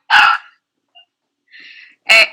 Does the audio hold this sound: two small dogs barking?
yes